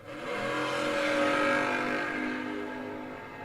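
Drag racing cars, among them a little red Chevy Nova, launch at Gulfport Dragway, engines building into a loud, rising roar that peaks midway and then fades as they pull off down the strip.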